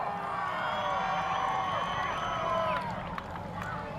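Crowd at a D1NZ professional drift championship round in Wellington cheers and whoops in a steady roar, with an announcer's voice over it.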